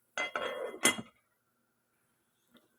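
A metal lid clatters onto a cooking pot of chicken tinola with cucumber, giving a close, brief burst of clanking and scraping, then quiet except for one faint clink.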